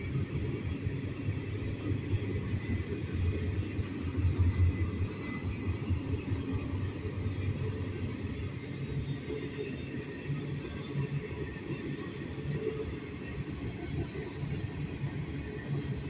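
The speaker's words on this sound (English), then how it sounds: "It's a well car that's making that noise." A railroad well car rolls past with its axle grinding and rumbling, a steady loud noise from passing rail traffic that goes on without a break.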